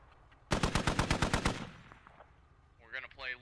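A .50 cal machine gun in the Squad video game rips off a burst of about ten rapid, loud shots, then a distant voice follows over the fading echo.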